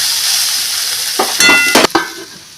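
Jackfruit curry (echorer dalna) with soaked chana dal being stirred and sautéed in a pan: a steady frying hiss runs throughout, broken near the end by a few loud spoon scrapes.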